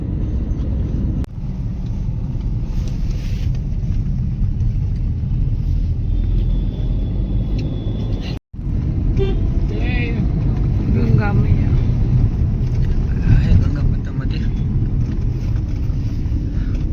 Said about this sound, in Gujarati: અહીંયા થોડુંક ટ્રાફિક જેવું હજી લાગે છે